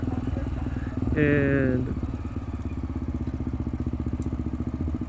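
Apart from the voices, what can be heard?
Honda CBF 250 Twister 2002 carbureted motorcycle engine idling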